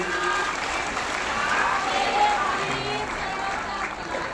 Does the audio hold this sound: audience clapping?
yes